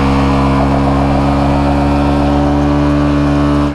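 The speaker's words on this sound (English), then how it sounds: "Give them a burnout." A car engine revs hard and holds at high RPM during a burnout, producing a loud, close, sustained roar with strong low harmonics that cuts off abruptly at the end.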